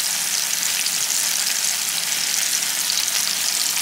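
A ribeye steak sizzles with butter in a hot pan, a steady, loud frying hiss that fills the whole stretch without pause or talk.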